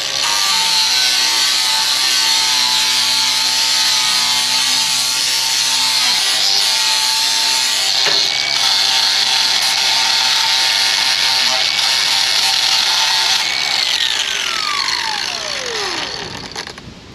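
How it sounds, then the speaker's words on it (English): A grinder works steadily along the edges of an upturned ProNovo Cyclone 80 attachment on a 6130, giving a continuous, loud, high-pitched abrasive whine that winds down near the end. "we got Eric right now on the grinder."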